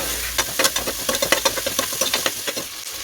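Chopped tomato and green chillies are stirred and sautéed in a pan for beef bone soup, with crisp sizzling and repeated scraping strokes of the spatula in an uneven rhythm, close and fairly loud.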